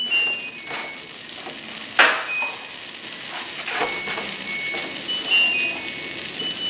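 Olive oil and butter sizzle in a pan before onions go in, a close, crackling fry with stirring clatter and a sharp metallic clink early on.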